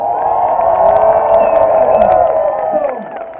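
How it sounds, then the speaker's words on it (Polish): A large festival crowd at Pol'and'Rock Festival cheers and shouts in a dense, sustained roar, loud and close, with whoops rising over the din before it fades slightly at the end. "wielkie na nich brawa."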